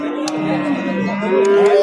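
A pregnant cow at a livestock market gives a long, low, drawn-out moo close by, filling the whole moment, with a faint click or two in the background.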